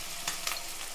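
Mutton curry with turmeric is stirred in a frying pan: a steady close sizzle with a couple of quick scraping stir sounds over about a second.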